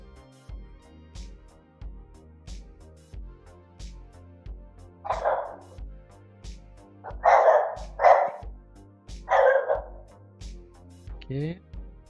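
A dog indoors lets out several loud barks in a loose cluster over a steady background, the barks standing out clearly from the quieter sound between them.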